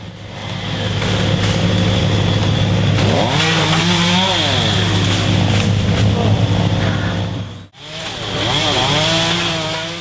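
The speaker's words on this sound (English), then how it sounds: "By the time Rex had finished cleaning away all the old dead fronds and skirting, that sable palm looked practically brand new." A tree service chainsaw cuts old dead fronds and skirting from a sabal palm, the loud engine droning steadily with rising and falling pitch as it bites, then a brief cutoff before it revs again.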